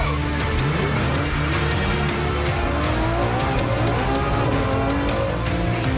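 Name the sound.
Ferrari F12 and Aston Martin racing off the start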